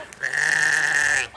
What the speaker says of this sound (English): 3 little goats sitting on a rock.